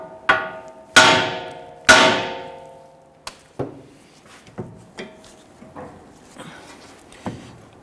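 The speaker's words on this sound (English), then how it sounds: "we're going to go ahead and strike the knuckle right here, just below the ball joint" A hammer strikes the steel steering knuckle of a 2011-2023 Dodge Charger just below the ball joint: three loud ringing metallic clangs, then a series of lighter, duller taps, all close and with no voices.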